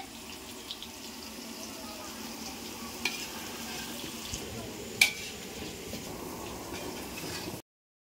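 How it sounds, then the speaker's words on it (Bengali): Potatoes for a chicken dish fry at a picnic cookout, giving a low, continuous sizzle with occasional stirring clatter, including one sharper knock midway, while faint running water and murmuring sound in the background. "এইখানে চিকেনের আলু ভাজা চলছে"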